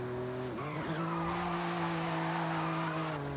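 A BMW M3 drifts in the racing game Forza Horizon 5, its tires squealing in a long sustained screech over a steady engine tone, loud and continuous.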